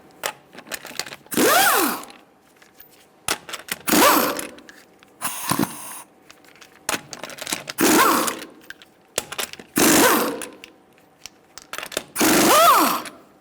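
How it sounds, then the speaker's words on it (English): Lug nuts on a 1998-2011 Ford Ranger front wheel loosened with a 19mm socket, six bursts of rapid mechanical whirring and ratcheting separated by short pauses, loud and close. "we're going to remove our wheel using a 19mm socket"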